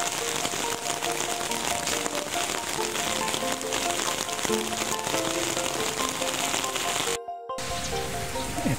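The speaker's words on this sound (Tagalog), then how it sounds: "umuulan na siya" Dense, steady rain patters on surfaces close by, a continuous hiss of many drops with a brief dropout near the end and no talking.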